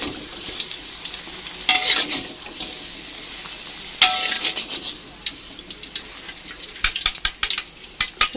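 Tongkol fish fries in hot oil, giving a steady close sizzle broken by bursts of sharp crackling pops and occasional utensil scrapes, with no talk.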